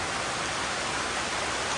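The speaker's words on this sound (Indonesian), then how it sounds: "Hujan semakin deras guys" Heavy rain pours down in a forest, a dense, continuous hiss of water striking leaves and ground, loud and close with no pauses.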